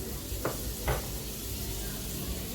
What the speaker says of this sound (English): So I'm going to saute my seasoning.